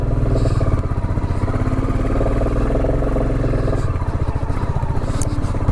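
A motorcycle engine labors loudly and continuously in first gear, clattering and pulsing as the bike climbs a rough, rutted mountain road on the way to Sandakphu.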